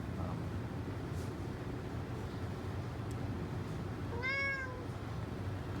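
A house cat gives one clear, rising-then-falling meow near the end, fairly close, over a steady background hiss in an otherwise quiet indoor setting.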